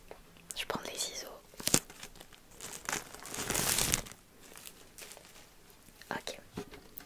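Scissors snip and tear at the plastic wrap on a Pokémon booster box, close crinkles and sharp cuts with a longer crackling rip midway, soft whispering between.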